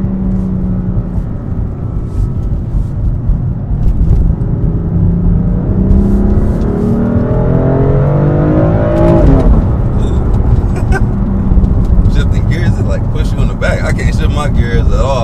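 A large automatic car accelerates through a curve, its engine note climbing steadily and then dropping at a gear shift before rising again, loud and close from inside the cabin, with a voice speaking over it.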